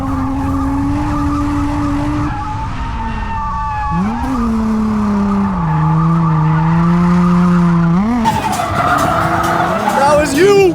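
A worn Infiniti G35 slides sideways on a dirt section of a track under the e-brake, its engine droning loud and close and shifting pitch as the tires scrub and squeal, with gravel spattering at the end.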